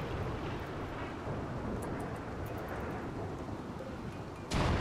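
Steady rain pours in a Rimworld colony, a dense continuous rushing wash at moderate level, with a sudden louder burst near the end.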